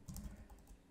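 Quick typing on a computer keyboard while using Blender 3D, a few soft, close key clicks in a short burst, faint and with no voice.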